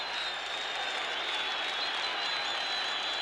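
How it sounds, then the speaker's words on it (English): A stadium crowd at a 1974 South Africa versus British Lions rugby Test roars and applauds after a Springbok try, a dense, steady wash of clapping and cheering. "The crowd go wild."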